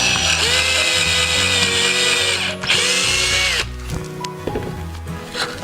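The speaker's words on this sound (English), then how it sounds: "I'm just going to drill it by eye" A power drill boring holes in wood outdoors on grass for wedding decor, a loud steady motor whine that cuts off briefly near the middle, then resumes with shorter bursts.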